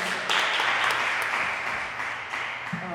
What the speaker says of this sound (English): one more round of applause for Ed Mechmann.